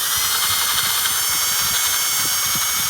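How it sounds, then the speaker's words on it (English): A power drill whines steadily at close range, its motor buzzing continuously with slight grinding pulses as it cleans old gasket material out of bolt holes on a vintage British motorcycle. "It's a drill bit, it's a drill."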